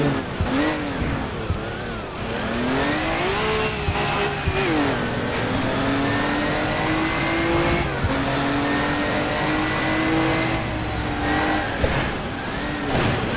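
Engine of a car in the racing game Crash Time 2 rises and falls through gear shifts while tires squeal and skid, loud and continuous throughout.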